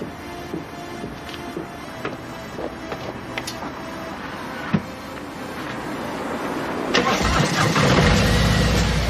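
A few mechanical clicks and ticks, then a Harley-Davidson Road Glide ST motorcycle engine with a Jekyll & Hyde touring muffler cranks and fires up into a loud, rough idle close by.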